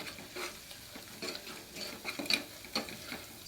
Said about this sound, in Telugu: ఇప్పుడు కలపెట్టుకోవాలి ఇలా.